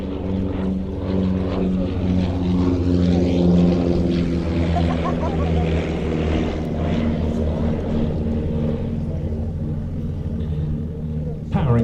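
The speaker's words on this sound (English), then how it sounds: "Powering this aircraft, a pair of 100 horsepower Blackburn Cirrus Minor 4-cylinder piston engines" A Miles Gemini twin-engine light aircraft with a pair of 100 horsepower Blackburn Cirrus Minor four-cylinder piston engines drones loudly and steadily with a throbbing propeller hum, and voices are faintly audible beneath.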